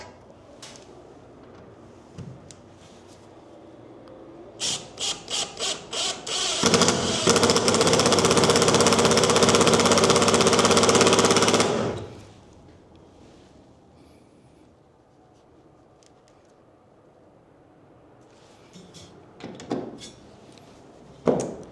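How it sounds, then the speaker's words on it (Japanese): An impact driver sinks screws into pre-drilled pilot holes in wood in a workshop. A few short trigger bursts come first, then one loud sustained whirring and hammering run lasting about five seconds, followed by quieter handling clatter. "下穴を開けましたので、ビスが打てるかどうかやってみたいと思います"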